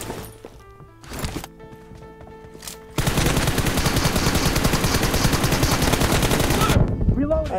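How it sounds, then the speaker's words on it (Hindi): Pistol fire in the Free Fire video game: a few isolated shots at first, then a sustained rapid burst of gunfire for several seconds, loud and close, ending abruptly. "अरे पिस्टल से मार रहे हो"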